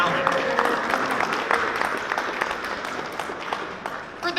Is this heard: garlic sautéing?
no